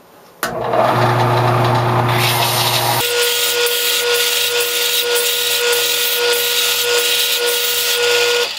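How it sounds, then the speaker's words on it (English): A steady, loud whirring power tool hums and hisses continuously, its pitch shifting partway through, as a sander runs against a wooden vase. "this project is mostly sanding and finessing to get this final smoothness to it"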